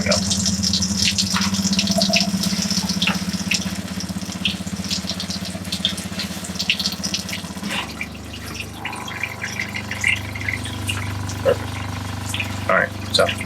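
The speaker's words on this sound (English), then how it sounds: "I got the water pump on, a little pump water from our fresh tank" A fresh water pump on a 2021 Pleasure-Way Tofino camper van runs steadily, with water splashing and spitting from a tap into a sink, a continuous close hum under the rush and drips.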